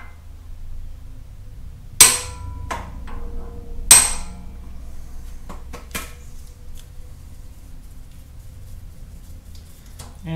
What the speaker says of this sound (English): we'll just hit the other end here with a hammer